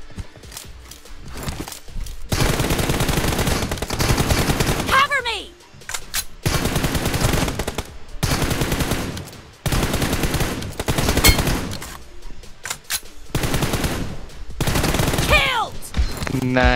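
Loud bursts of automatic gunfire from the mobile shooter game PUBG Mobile come in repeated long volleys separated by short pauses, with occasional mechanical reload clicks between them.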